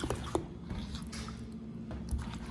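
Chocolate brownie batter stirred in a bowl, soft wet squishing and gloopy sounds with occasional light scrapes and clicks, close and quiet.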